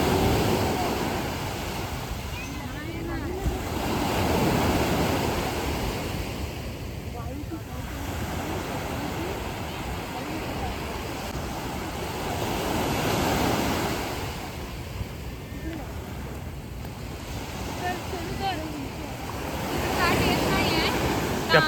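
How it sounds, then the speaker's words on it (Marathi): Sea waves wash onto the sandy beach at Girgaon Chowpatty in Mumbai, a steady rolling surf that swells and recedes in slow cycles under gusty wind noise, with faint voices in the background. "पण लाटा येत आहेत का बघा."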